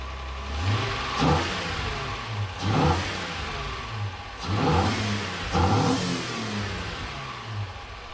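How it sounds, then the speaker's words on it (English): A car engine idling low, then revved in short bursts several times, each rev rising and falling back to a rumbling idle. "those little revs were so motivating to get this car back on the road"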